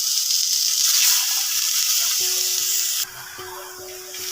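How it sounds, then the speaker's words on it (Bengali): Pieces of katla fish sizzle loudly in a dry wok over a gas flame, a steady bright hiss that drops in level partway through while a faint tonal hum sounds underneath. "তারপরে দেখো আমি এখানে মাছগুলো একটা একটা করে দিয়ে দিচ্ছি শুকনো কড়াতে।"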